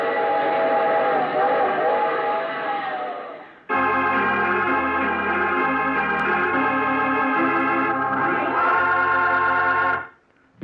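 A train's whistle sounds in long, chord-like blasts over the rumble of rolling wheels in a 1940s radio drama, close and loud, cutting out abruptly near the end.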